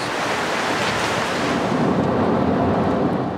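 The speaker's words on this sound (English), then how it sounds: "Drive carefully since it is raining heavily, with water accumulated in some places." Heavy rain pours steadily during a storm with water pooling on roads, a dense unbroken hiss that stays loud and even throughout, with no voices.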